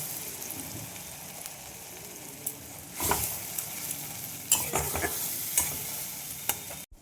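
Ginger garlic paste sizzles in a pan with fried onions, a soft constant frying hiss broken by several sharp stirring scrapes and clinks of a utensil against the pan.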